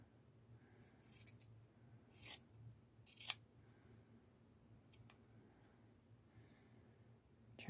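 Scissors snip through a t-shirt, cutting it into strips for yarn; a few short, crisp cuts sound up close at irregular moments over a quiet background.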